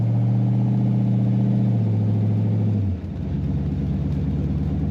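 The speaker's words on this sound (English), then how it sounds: "Great rumble to this car." A 1932 Ford two-door sedan street rod idles with a deep, steady rumble close by, its low engine note dropping slightly partway through and continuing as a throaty, even burble.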